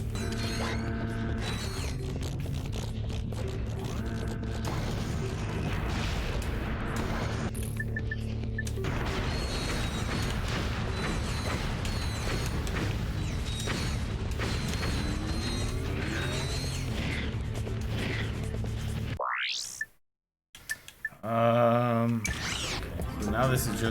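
Wrench combat in Ratchet & Clank: Up Your Arsenal plays as dense metallic clanks, creaks and mechanical whirs under game music, with a brief drop to silence and sharp effects near the end.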